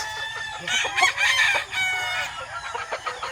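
Boston bloodline gamefowl rooster crowing close by, one long strained crow with a few clucks, recorded on a Philippine game farm.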